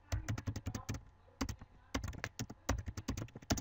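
Rapid bursts of keystrokes clatter on a computer keyboard, close and crisp, typed in quick clusters with brief pauses between words and no talking.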